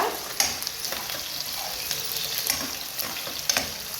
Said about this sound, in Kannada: ಆಯಿಲ್ ಹಾಕಿದ ನಂತರ ಸ್ವಲ್ಪ ಈರುಳ್ಳಿ ಹಾಕ್ತೀವಿ, ಮೆಣಸಿನ್ಕಾಯಿ ಹಾಕ್ತೀವಿ.